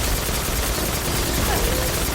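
Dense, continuous barrage of exotic weapon fire in a video game, a loud unbroken wash of overlapping shots with no pauses.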